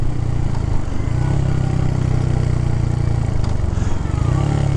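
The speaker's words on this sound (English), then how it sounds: "It's got a pretty good tone to it. Again, like" A 2023 Royal Enfield Hunter 350 single-cylinder motorcycle engine thumps along while riding, a loud, close, continuous low-pitched pulsing drone with a steady throbbing tone.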